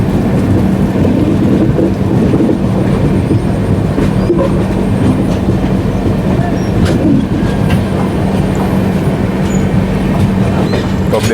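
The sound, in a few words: Neelanchal Express train running on track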